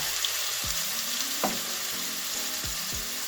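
Jarred minced garlic sizzles steadily in hot oil in a soup pot, a continuous close frying hiss with a few soft knocks and stirring thumps, no voices.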